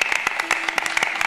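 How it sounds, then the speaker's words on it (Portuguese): An audience at a folk music event at Feira dos Moços in Custóias, Portugal applauds a musician, with close, sharp individual claps in an uneven rhythm over a sustained background tone. "Uma salva de palmas para este senhor, um grande músico"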